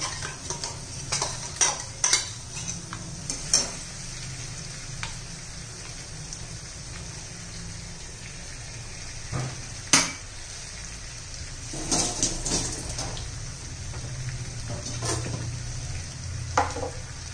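Masala and onions for dhaba-style bhuna chicken being fried and stirred in a pan, with a soft continuous sizzle broken by repeated sharp metal spoon clanks and scrapes against the pan, no voices.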